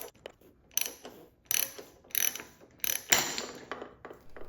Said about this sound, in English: putting that large socket on this ratchet, and it is under tension